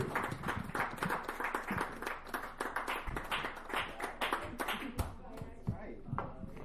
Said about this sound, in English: Another round of applause for Mr. KJ